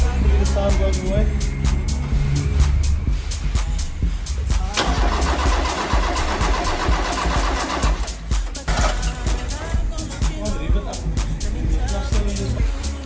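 Original 16v Volkswagen Jetta engine cranking and firing up from cold with a starting problem, loud and close in a workshop, running on with a rough uneven note while people talk nearby.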